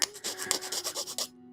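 Grit paper sands a small plastic model kit part from a Bandai Asuka Shikinami Langley plug suit figure, giving quick, soft, close scratchy rubbing strokes for about a second before stopping.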